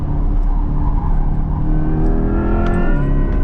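Inside a 2024 Corvette E-Ray, the all-wheel-drive hybrid sports car's engine pulls hard up a canyon road as a loud, steady droning roar that climbs in pitch toward the end, with no talking.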